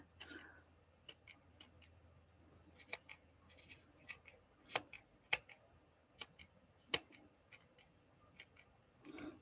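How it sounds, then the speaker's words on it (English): Sharp scissors snip through tassel threads in a quiet room, a string of crisp, close cuts arriving in uneven clusters with short pauses between them. "it helps if you've got sharp scissors"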